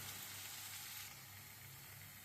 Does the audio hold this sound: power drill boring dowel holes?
no